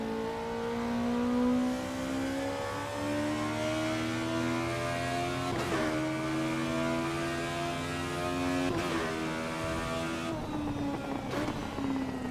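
A four-cylinder engine revving to 11,000 RPM in a racing video game climbs through gears in rising harmonic sweeps, several upshifts breaking the steady whine, moderately loud and alone.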